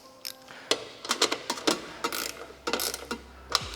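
VX clips being tightened around a Kasco AquatiClear unit, heard as a quick series of sharp, close ratcheting clicks coming in short irregular bursts.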